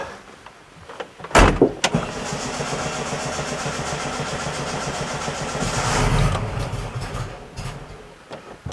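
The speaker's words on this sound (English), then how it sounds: "Now, I hate to use up a good battery and I hate to put a strain on the starter, but got to get that fuel there somehow." The starter of a restored 1966 VW Beetle cranks the engine without it firing to pump fuel through. A sharp clunk comes first, then a sustained, rhythmic whirring churn lasts about six seconds and swells near the end before cutting off.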